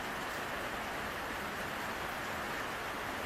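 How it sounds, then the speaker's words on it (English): Rain falling outside a home machine workshop, a quiet, even hiss of steady drops that holds without a break and with no voices. "It's raining today."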